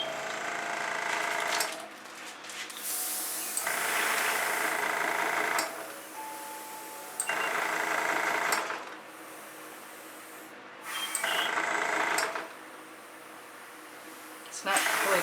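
A battery-powered airbrush spraying paint hisses in repeated bursts of a few seconds each, loud and close, separated by quieter gaps with a low background hum.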